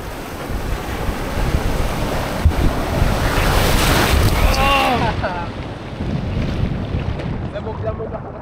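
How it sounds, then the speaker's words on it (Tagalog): Ocean waves break and wash onto a beach in Puerto Princesa, Palawan, while strong wind buffets the microphone, a loud rushing roar that swells and eases. Voices are briefly heard in the mix. "Yung hampas ng alon, inaano rin siya ng hangin."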